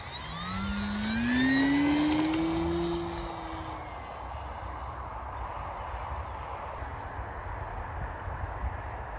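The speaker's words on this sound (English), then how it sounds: "it was awesome to see that this plane could fly beautifully" A heavy-duty RC carrier plane with a 3536 motor flies past, its whining motor pitch rising then gliding down as it passes fairly near, then fading into steady outdoor background hiss.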